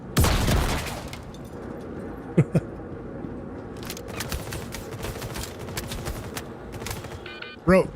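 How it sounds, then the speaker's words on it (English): Gunfire in the Star Citizen video game, with loud sharp shot bursts near the start, a couple of isolated cracks midway and another burst at the end over a dense game soundscape. "they're shooting me through the wall"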